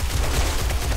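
An SMG turret in 7 Days to Die fires a dense, continuous burst of rapid shots that blur into a loud, steady rattle, heard up close for about a second.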